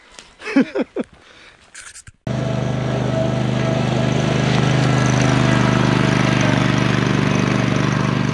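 A Bad Boy Elite zero-turn mower engine cranks and catches after a few brief sputters, then settles into a loud, steady, close-up running drone.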